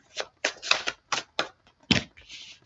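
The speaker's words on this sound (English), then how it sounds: "let's shuffle up the cards for the Initial M." A deck of tarot cards is shuffled in a quick series of about eight crisp riffles and snaps, close and fairly quiet, ending in a short softer rustle.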